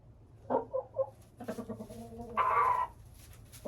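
Two hens cluck close by in a coop: a few short clucks, then a longer, louder drawn-out squawk, over quiet background noise.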